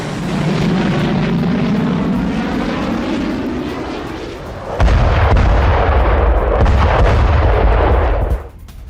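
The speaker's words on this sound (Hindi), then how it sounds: "रूसी एयरफोर्स ने गिराए फैब 500 बम।" Russian air force FAB-500 bombs striking Ukrainian military sites: a roaring jet aircraft sweeps overhead, then a heavy, sustained rumbling blast of explosions takes over, loud and booming before cutting off.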